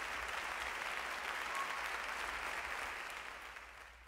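Steady, even applause from a crowd, a dense wash of clapping that holds for about three seconds and then fades away.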